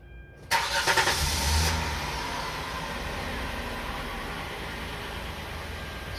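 A 2007 Hyundai Sonata V6 cranks briefly and catches, then settles into a steady, smooth idle, heard close and alone.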